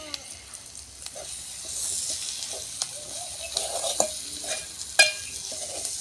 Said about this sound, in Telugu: అల్లం ముద్ద వేసుకోవాలి